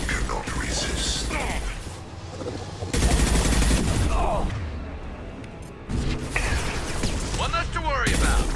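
Impact shot weapon fire in Mass Effect 2 during a battle on the Collector Ship, heavy mechanical blasts and rapid gunfire layered with game sound effects, loud and dense, with voices speaking across it.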